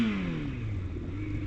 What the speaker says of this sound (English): I revved my engines to scare those cocks